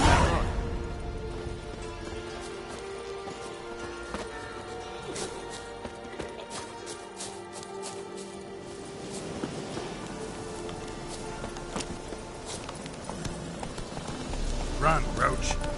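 Roach the horse galloping in The Witcher 3, steady clip-clop hoofbeats running beneath game ambience, with voices speaking over the rhythm.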